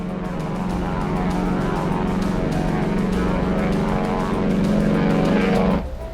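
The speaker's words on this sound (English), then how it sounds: "At 8:20 a.m., the first B-25 takes off." A World War II B-25 bomber takes off from the aircraft carrier Hornet, its piston engines and propellers droning loud and steady with a rising pitch before the sound drops away at the end.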